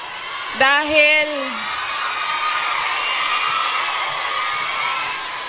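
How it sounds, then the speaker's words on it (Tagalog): A crowd of students shouts Duterte: one loud, sharp collective shout rings out, then settles into a sustained murmur of cheering and voices. "Dahil kayo ay sumisigaw ng Duterte, suspended na kayo lahat bukas."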